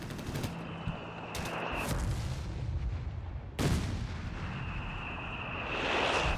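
Big bomb blasts in Company of Heroes 3, a World War II strategy game, hitting a Sturmel: two heavy booms about two seconds apart ride over a constant rumble of battle noise, with a high whine running beneath them.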